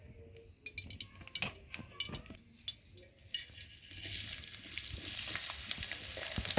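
Onions fry in oil with green chillies for a dried fish and Malabar spinach seed dish, starting with scattered spoon scrapes and clinks against the pan, then building into a loud, steady sizzle up close.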